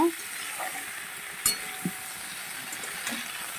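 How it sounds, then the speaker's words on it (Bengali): Spiced masala sizzling in plenty of oil in a covered pan while being stir-fried, a quiet steady hiss close by with a few stirring clinks and knocks, no voices. "এবার এটাকে সুন্দর করে আমি ঢেকে ঢেকে কষাবো বন্ধুরা"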